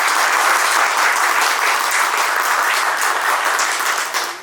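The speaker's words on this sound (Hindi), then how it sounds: "एक बार जोरदार तालियां होनी चाहिए" Loud, steady applause from a gathered crowd at a retirement ceremony, dense clapping sustained throughout and easing slightly at the end.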